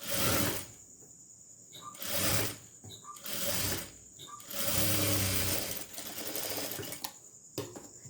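Tailoring sewing machine stitching cloth in short bursts, its rapid mechanical whirring starting and stopping several times, close and fairly quiet with brief pauses between runs.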